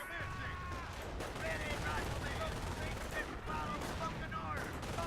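Gunfire in the World War II strategy game Company of Heroes rattles in bursts through a busy battle soundscape, moderately loud with distant booms and game voice callouts mixed in.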